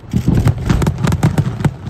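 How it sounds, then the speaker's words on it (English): A rapid series of pyrotechnic blasts fired just before the green flag at the IndyCar Detroit Grand Prix night race, heard as loud, close, sharp bangs in quick succession over roughly two seconds. "So you have, of course, your explosions right before it goes green, right?"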